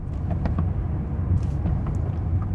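BMW M5 running in fourth gear after an upshift, a steady, low cabin drone that holds even, with faint small clicks and rattles above it and no talk.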